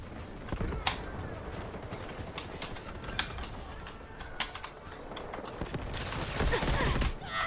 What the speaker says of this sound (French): Ça joue mitrailleuse.